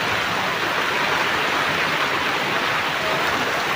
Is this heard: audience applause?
no